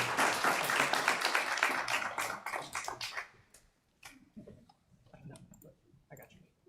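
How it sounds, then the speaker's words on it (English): Audience applause at a city council meeting recognizing public works staff, a dense burst of clapping for about three seconds that thins out into scattered claps and murmuring voices. "We'll give him another round of applause."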